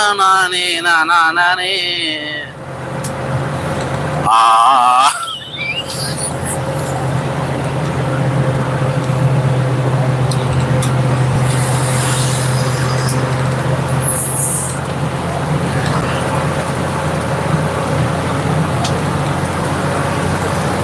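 A vehicle drives a bumpy road from Gangaikonda Cholapuram toward Kumbakonam, heard from inside as a steady low rumble and road noise. A few brief tonal sounds come early on, then the drone runs evenly throughout.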